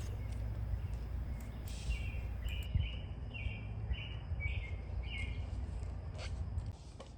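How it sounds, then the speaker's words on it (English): Birdsong in a New England spring setting: repeated chirps and short calls at moderate distance over a steady low outdoor rumble, continuing throughout. "I hope you can hear the birds in the background"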